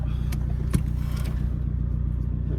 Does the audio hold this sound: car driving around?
yes